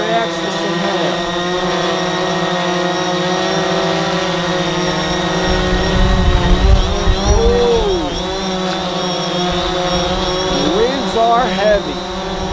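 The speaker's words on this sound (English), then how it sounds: "Let's see how the drone reacts to some hail." A DJI Phantom 4 drone flies outdoors in hail and rain, its steady propeller whine and tonal motor hum continuous and close, with rumbling gusts and brief pitch bends from mid-clip onward.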